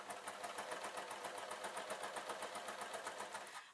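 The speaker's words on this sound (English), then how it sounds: "I'm sewing the 2 edges of this hessian right side to right side" Overlocker serger stitching the edges of hessian fabric, a steady rapid mechanical whir with a fast even pulse, close and continuous throughout, alone with no talk.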